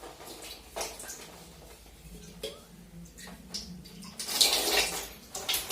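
Water poured from a vessel splashes in short bursts amid clinks of dishes and faint background voices, building to a louder gush near the end.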